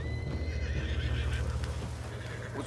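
A horse in the video game Red Dead Redemption 2 gives a loud, close neigh while clip-clopping hoofbeats keep up a steady rhythm underneath, with no talk.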